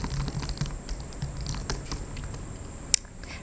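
Soft, quiet typing on a computer keyboard in a soft-spoken sci-fi restaurant reservation role play, an even patter of light key clicks continuing throughout, with one sharper tap near the end.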